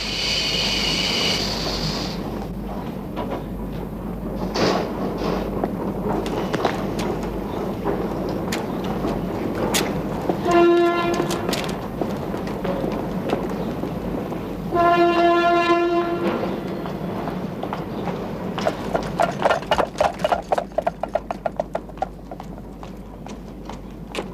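Cartoon train arriving at Frankfurt station: a steady rumble with two clear whistle blasts midway, then a rhythmic run of hoofbeat-like clip-clops near the end, with no voices.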